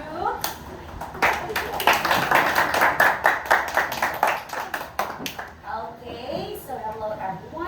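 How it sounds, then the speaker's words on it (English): A round of applause for student groups in a classroom: irregular hand claps from a small crowd, close and fairly loud, with voices talking over them for most of the stretch. "Let's give a round of applause for all the groups."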